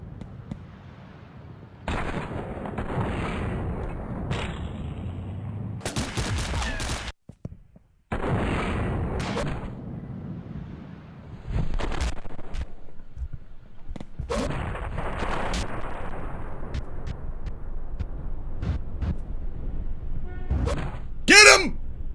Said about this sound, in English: Guy just shows me the grenade.